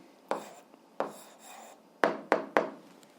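Someone writes out the answer to an algebra exercise, giving five short, dry scratching strokes in an uneven rhythm, close and fairly quiet, with no talking.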